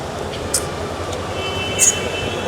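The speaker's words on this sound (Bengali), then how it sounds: "আর এটা হলো সিলেট রেলওয়ে স্টেশন ভিতরে পরিবেশ" Inside Sylhet railway station, a steady low rumble of trains fills the air, with a couple of brief high squeals or clinks standing out over the hum.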